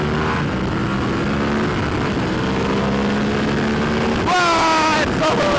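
A 2019 Ducati V4S superbike engine revs hard and upshifts with an auto-blip system, its rising engine tone dropping in steps at each shift and surging louder near the end, heard close from on board.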